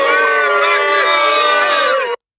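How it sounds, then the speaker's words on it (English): A crowd boos and jeers in an animated scene, a dense, loud wall of voices that holds steady for about two seconds and then cuts off abruptly. "Yep, there's people booing at you."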